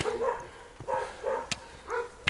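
A dog barks several times in a moderately close, irregular series in Banská Štiavnica, Slovakia, with short gaps between the barks and a few sharp clicks.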